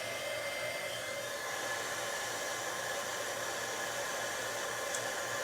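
Embossing heat tool blows a steady, low, hair-dryer-like roar while melting embossing powder on stamped cardstock, continuous and fairly faint, with no talking.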